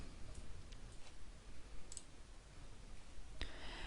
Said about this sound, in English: And then you click Upload Image.